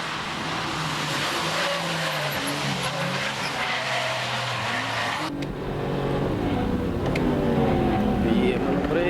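A Nissan Z and a Honda S2000 race hard side by side, engines screaming through rapid upshifts with a brief tire squeal, loud and close throughout, while commentary talks over the engine roar.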